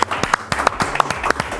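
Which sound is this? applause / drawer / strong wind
applause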